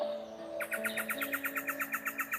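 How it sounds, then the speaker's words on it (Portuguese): A small bird sings a fast, evenly spaced trill of about eighteen bright chirps that starts after a short pause and carries on over faint, steady background tones. "cantar como esse passarinho cantou agora."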